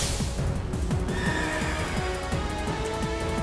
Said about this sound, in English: An amazing looking horse.